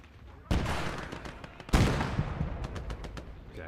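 Gunfire from a World War II Eastern Front battle in Gates of Hell: Ostfront, two sharp loud reports followed by a scatter of lighter distant shots under battlefield rumble.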